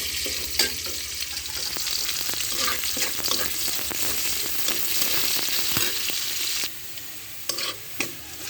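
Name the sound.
chopped onion frying in oil in a pan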